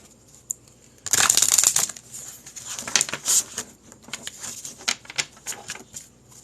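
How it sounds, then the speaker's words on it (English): Tarot cards being shuffled by hand, a dense burst of riffling and slapping followed by a run of lighter, irregular card flicks and taps, close and fairly quiet, with no talking. "Let me shuffle one more."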